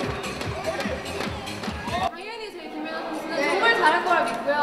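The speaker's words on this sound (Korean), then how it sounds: "이렇게 기운찬 응원 함성이 저 멀리 캐나다 밴쿠버까지 전해지고" Korean supporters cheer for figure skater Kim Yuna during the Vancouver Olympics, rhythmic crowd chanting and shouting at first, then an abrupt shift to a noisier swell of mixed voices.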